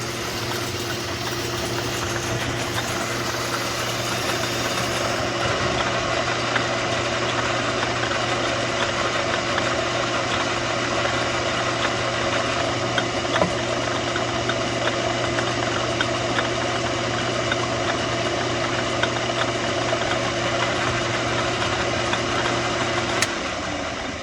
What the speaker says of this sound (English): Let the lathe calm down.